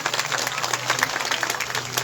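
An audience at a Shiv Amrit Katha religious discourse in Yamunanagar, Haryana claps steadily together in a dense, continuous patter, moderately loud and sustained for the whole stretch.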